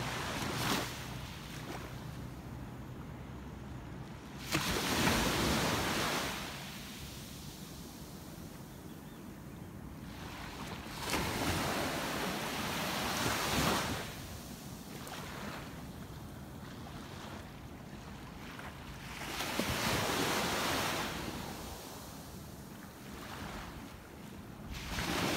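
Ocean surf rolling onto a Costa Rica beach in the early morning, steady wash with several louder breaking waves swelling and receding, plus some wind buffeting the microphone.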